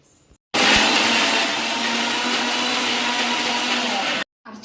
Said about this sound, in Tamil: நல்லா மிக்சியில் போட்டு அரைச்சி எடுத்தாச்சு மீன் குழம்பு மசாலா